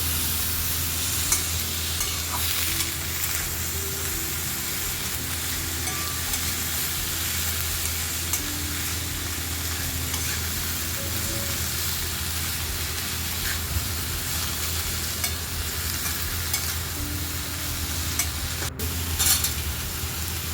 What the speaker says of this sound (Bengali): মশলার সাথে ভালো করে কপিটা মিশিয়ে নেব।